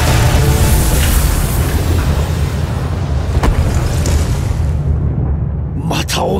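A main cannon firing in the Sand Land video game, a heavy rumbling boom with a long roaring blast and crackling explosion tail, loud and close, with voices speaking over part of it.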